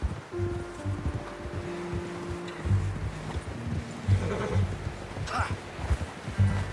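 A horse in the video game Red Dead Redemption 2 moves along with soft clip-clop hoofbeats amid rustling and wind, fairly quiet and intermittent, with faint game sounds around it.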